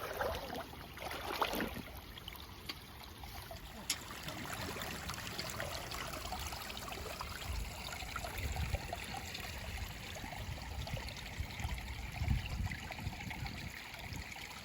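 Soft continuous trickle of a creek running over gravel, faint and steady with small splashes, no talk.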